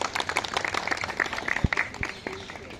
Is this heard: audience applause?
yes